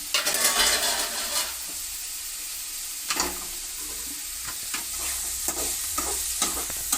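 Onions cook in a pan for a mutton dish, giving a soft steady sizzle broken by several scraping stirs and light clinks of a utensil against the pan.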